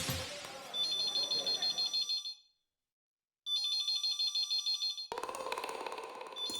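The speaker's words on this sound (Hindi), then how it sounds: "दया फोन क्यों नहीं उठा रही है?" A telephone rings in repeated electronic trilling bursts, pausing briefly before ringing again, with some voices and background noise around it.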